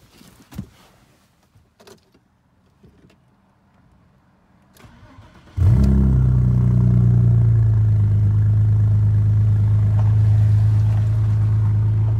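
A car engine with its catalytic converter removed cranks and catches, then settles into a loud, rough, deep idle that continues steadily, after a few quiet clicks and knocks.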